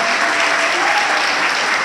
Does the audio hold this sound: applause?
yes